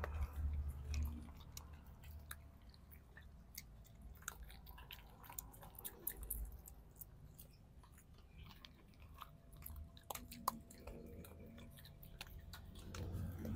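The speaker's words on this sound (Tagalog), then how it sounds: "pakinggan natin yung mga nguya nila" Soft, irregular crunching and chewing of dry kibble by small-breed dogs, close by, with small clicks and bites scattered throughout over a low background hum.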